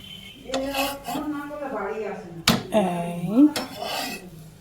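Food, a masala paratha or sesame chicken, flipped in a frying pan over medium heat, with one sharp clatter of metal on the pan midway as someone talks over the cooking.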